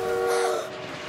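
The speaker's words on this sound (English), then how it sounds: "that train is closer than we thought" A cartoon train approaches on the Adventure Bay railway tracks in PAW Patrol, with a loud sustained horn-like tone and a rumbling rail roar that eases off after half a second, with no speech.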